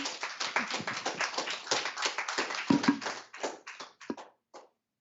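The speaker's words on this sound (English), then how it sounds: "Please give them a very rapturous round of applause." Audience applause after a healing and ancestors talk, dense steady clapping that thins out toward the end, with a few last scattered claps before silence.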